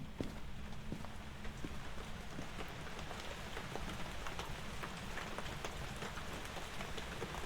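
Steady rain in the video game Phasmophobia patters across a surface with scattered drop ticks, a constant even hiss lasting throughout with no voices.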